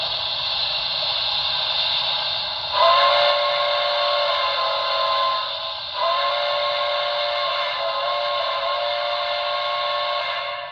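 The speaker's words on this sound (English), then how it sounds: "F22 is toggle between the whistles. Let's do that. Let's see what the other whistle sounds like." A steady, loud whistle tone with layered pitches from a model steam locomotive's sound system, an ATSF Blue Goose model, sounds continuously, briefly dipping and swelling again a few times, over a faint low rumble.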